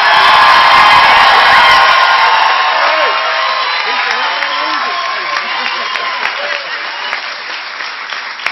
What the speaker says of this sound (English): How about a big applause for this bunch?